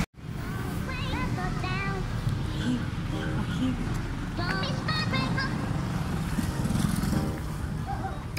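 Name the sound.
street traffic with many vehicles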